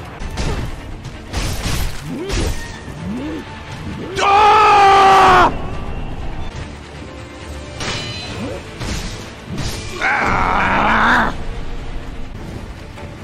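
A character in Sekiro: Shadows Die Twice lets out two loud, drawn-out screams, each about a second long, between game clashes and thuds, while someone talks excitedly over the action.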